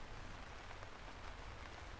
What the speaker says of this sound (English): And still, the rain came down.